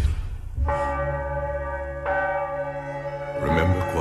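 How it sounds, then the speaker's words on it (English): Church bells toll in slow, resonant strikes, each ring lingering and overlapping the next, loud and full with a deep hum beneath. "The city awakes to the bells of Notre Dame."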